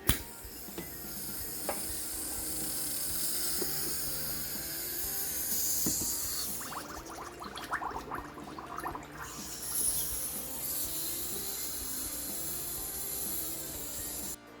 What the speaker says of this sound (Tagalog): Kargahan natin siya ng green gas.